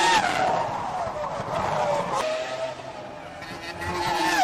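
Formula 1 race cars howl around the Monaco street circuit, a loud continuous high-pitched engine whine with pitch shifts, as the cars slide through a corner.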